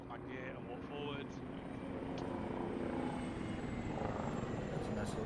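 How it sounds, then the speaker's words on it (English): A helicopter in a military video game drones steadily with a continuous rotor and engine roar, close and loud throughout, with faint game sounds above it. "That's a nice looking helicopter."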